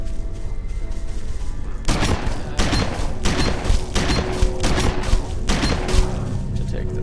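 Shotgun blasts ring out in a video game, several loud booming shots in quick irregular succession over a constant background drone, with a voice talking over them.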